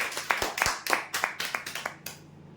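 A small group claps for a winner at a weekly customer prize draw, with about a dozen separate, uneven hand claps, fairly close, fading out near the end.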